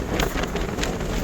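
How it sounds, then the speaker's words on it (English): Strong storm-season wind buffets the microphone outdoors on the Isle of Wight, a dense roaring rush with gusty surges throughout and no clear voices. "as you can tell by the wind, it's very windy"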